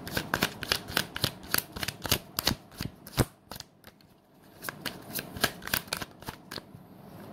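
Tarot cards being shuffled by hand, a steady run of crisp riffling flicks with a brief pause midway, close and clear with no talking.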